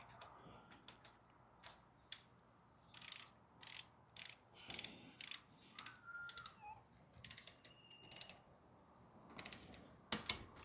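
A torque wrench clicks and ratchets while tightening a bicycle tire axle to 9 newton meters, giving a series of short, close mechanical bursts with pauses between them and a sharper click near the end.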